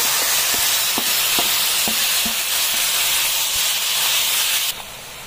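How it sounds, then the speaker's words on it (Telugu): Chopped tomatoes hit a pan of softened onions for vadala pulusu, a steady loud sizzle with hissing steam and occasional soft knocks of stirring, no voices. "ఇప్పుడు ఇందులోకి మనం ముందుగా కట్ చేసి పెట్టుకున్న టొమాటోస్ యాడ్ చేసుకోవాలి"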